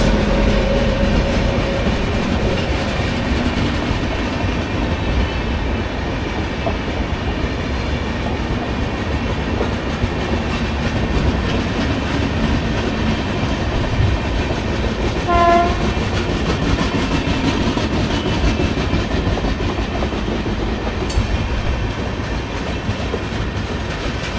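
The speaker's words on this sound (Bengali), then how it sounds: "শতাব্দী এক্সপ্রেস, হাওড়া পুরী শতাব্দী।" The Howrah Puri Shatabdi Express passes close by as a loud, continuous rumble of wheels and carriages with rhythmic clatter, and a short horn-like tone cuts through midway.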